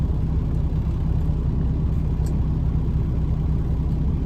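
Steady, close engine rumble of a semi truck cab bobtailing without a trailer, a continuous low drone with road roar and no breaks or talk.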